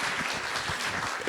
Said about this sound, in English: Would you please give David a warm round of applause?